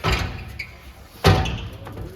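RV entry steps on a 2007 Keystone Cougar 276RLS travel trailer pulled out with a sharp metallic clunk midway, preceded by fainter rattles and handling noise at the start.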